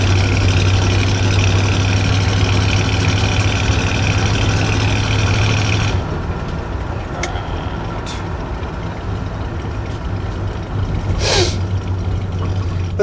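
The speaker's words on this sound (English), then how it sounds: "Today we are in the 1979 Ford Ranchero GT. It has a 351 Windsor V8 and an automatic transmission." A 1979 Ford Ranchero GT with a 351 Windsor V8 and automatic transmission idles steadily up close, a deep low rumble that drops a little in level partway through, with a brief hiss near the end.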